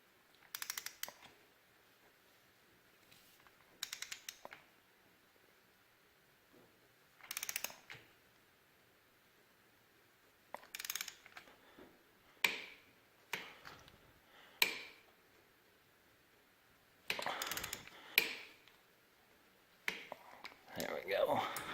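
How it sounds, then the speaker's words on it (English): A ratchet tightens a 13/16 spark plug on a Harley-Davidson engine, heard as short bursts of quick clicking spread across the clip, close and fairly quiet, separated by pauses. "now I'll ratchet down the spark plug to"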